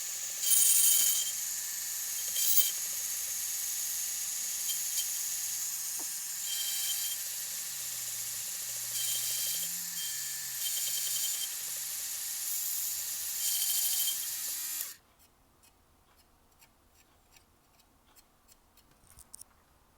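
A cutting tool trims a Tamiya Mini 4WD front bumper layer by layer, a steady high buzzing grind with faint ratcheting ticks. It runs for about fifteen seconds and then stops abruptly into near silence.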